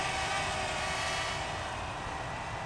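A Gteng T907W FPV hexacopter drone hovers with a steady, even whirring buzz of its six propellers, constant and fairly close with no talking.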